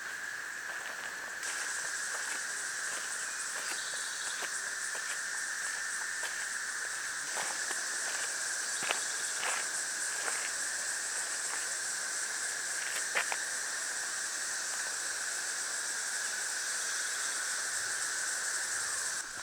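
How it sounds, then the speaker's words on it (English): Cicadas sing in a pine forest along a hiking trail, a steady high buzzing drone that holds throughout, with faint clicks and brief stronger pulses here and there; no voices. "I do have that cicada serenade as I hike along"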